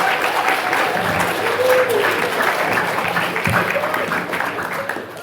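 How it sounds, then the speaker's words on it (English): Theatre audience at a live comedy show applauding in a dense, sustained wave of clapping that fades toward the end, with some voices underneath. "Round of applause for Todd."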